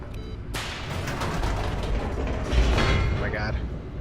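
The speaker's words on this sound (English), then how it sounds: "I don't like elevators." An elevator descends in the video game The Stanley Parable, a dense mechanical rumble with grinding, ratcheting clanks that holds steady and swells slightly before easing off.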